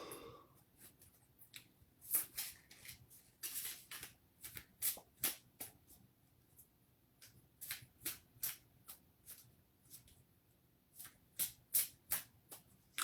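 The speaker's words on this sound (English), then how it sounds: "I'm still shuffling." Tarot cards being shuffled by hand, a series of crisp riffling snaps and soft slides in an irregular rhythm, close and fairly quiet in an otherwise still room.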